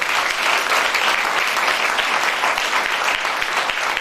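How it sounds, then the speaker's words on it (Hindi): Loud, dense audience applause for a business team at a winners' celebration event, continuous and steady for several seconds with no talking. "मेरी पूरी प्यारी सी टीम के लिए एक बार जोरदार ताली होनी चाहिए दोस्तों"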